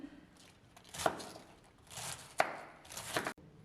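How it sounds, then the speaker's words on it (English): A kitchen knife finely shreds cabbage for sauerkraut, giving soft, irregular chopping strokes and crisp slicing sounds at close range, fairly quiet, with no talking. "Just cutting this as fine as I can"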